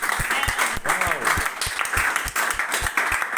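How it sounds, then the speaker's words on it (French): An audience applauds a child at what appears to be a church gathering, with steady clapping and crowd noise running throughout and voices mixed in underneath. "Acclamez déjà pour l'enfant, s'il vous plaît."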